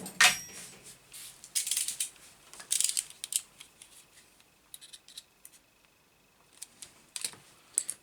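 Scissors snipping through parts on a Hobbytech Rogue Terra RC car under repair, a few sharp close clicks and cuts scattered with pauses, quiet overall.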